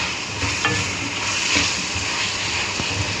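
Cabbage and mixed vegetables being stirred in a hot pan for chicken macaroni, a steady sizzle and frying hiss broken by a few scraping clinks of the spoon, close and alone.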